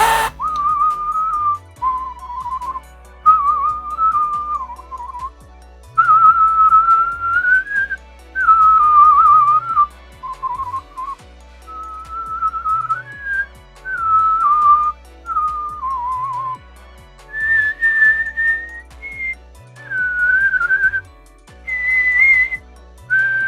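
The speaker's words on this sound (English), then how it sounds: "That teaches you to fold your lips so that you can learn how to whistle." A person whistles a wandering tune alone, phrases of clear, steady pitch rising and dipping with short breaths between them, close and moderately loud.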